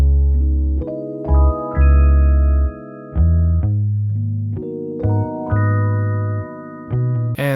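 A bass line and chords playing together in a vintage-style sampled instrumental, with deep sustained bass notes stepping under held chords that shift every second or so, loud and close with no voices.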